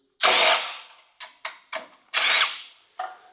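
A power drill removes the screws from the plate holding the taillight on a Ventrac 4520N tractor canopy, whirring close up in two longer runs and several short quick bursts, with no talk.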